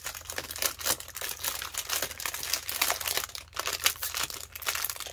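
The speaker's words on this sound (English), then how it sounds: "I don't want to rip it." Paper crinkles and rustles up close as a piece of happy mail for a cash-envelope budget planner is carefully opened, with irregular bursts of crumpling and soft crackles, and no voice.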